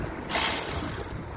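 A nut is tightened on the front end of a salvaged Ford Kuga, likely with a ratchet, making a short close mechanical clicking burst with a brief metallic rattle. It lasts barely more than a second.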